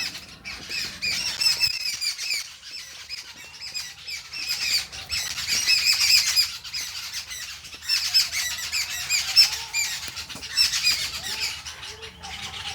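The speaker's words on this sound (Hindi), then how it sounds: "देखो कितनी सुंदर आवाज़ आ रही है, चिड़ियों की चें चें, तोतों की चें चें, देखो कोयल की कू कू" Birds chirp and parrots squawk in a busy, continuous outdoor chorus, with bright calls repeating throughout and a koel calling among them, moderately loud and with no talk.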